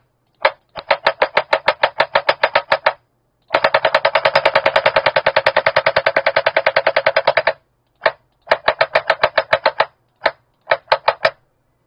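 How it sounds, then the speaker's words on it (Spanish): A GUN4IR Top Shot Elite light gun's recoil mechanism fires in loud, sharp mechanical bursts: a short volley, a long rapid automatic run of dozens of clacks, then several shorter bursts and single shots, with no talking. "Vamos a probar cómo suena el recoil,"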